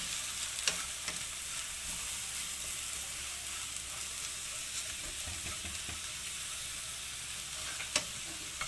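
Eggs for an omelette with green chili cook in a pan over medium heat, giving a soft, steady sizzle with occasional faint clicks and taps, fairly quiet and without speech.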